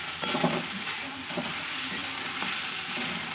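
Banana stem fries in a pan with a continuous sizzle and hiss, joined by a few soft stirring scrapes, close and steady with no talking.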